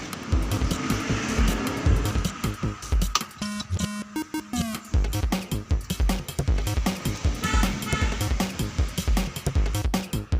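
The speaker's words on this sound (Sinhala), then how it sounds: "දැන් අපි මේ වාහනේ ස්ටාර්ට් කරන්න තමයි යන්නේ." A freshly fitted two-stroke three-port engine with its silencer removed revs loudly and close up in rapid, uneven bursts of harsh popping, with a brief quieter dip partway through.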